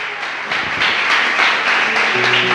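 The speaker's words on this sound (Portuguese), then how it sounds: "Vamos aplaudir Jesus bem forte" A church congregation claps loudly for Jesus during a worship service, close, dense applause from many hands with a faint hum of voices underneath.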